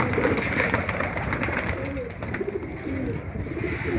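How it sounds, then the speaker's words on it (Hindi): Around a hundred pigeons kept in a loft make low rolling coos that overlap continuously, with faint flutters and taps mixed into a steady background, heard at moderate distance. "तो ये सारे कबूतर"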